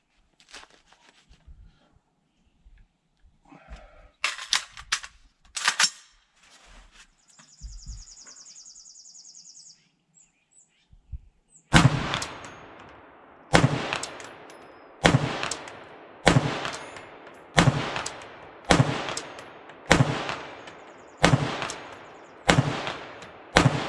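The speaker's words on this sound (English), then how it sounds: "So we'll take some shots at 100 yards with the Renegade Plus, see where she's hitting." POF Renegade Plus AR-15 rifle firing Federal XM193 ammunition at a 100-yard range, a steady series of about ten loud, sharp cracks with ringing tails, after quieter handling clicks and rustling.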